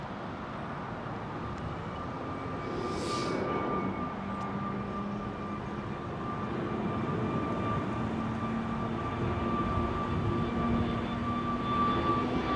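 An Etihad Boeing 787 arriving on runway 27L at London Heathrow makes a steady, distant engine drone with faint whining tones that swells slightly toward the end, heard alone without talk.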